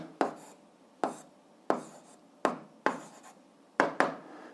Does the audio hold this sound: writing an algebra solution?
yes